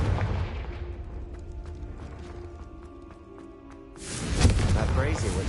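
The Confringo blasting spell in Hogwarts Legacy, a loud rumbling burst and boom that breaks out suddenly after a stretch of mechanical ambience and creaks, with a voice speaking in the scene.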